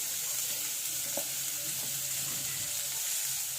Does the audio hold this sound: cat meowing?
no